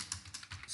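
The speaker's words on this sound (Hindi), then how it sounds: "जैसे मैं इसके लिए कुछ नाम मैं यहां पे एंटर करता हूं, पूजा सिंह, नीरज" Typing on a computer keyboard while entering names into an Excel spreadsheet: a quick, uneven run of close, crisp key clicks over about a second, with no voices.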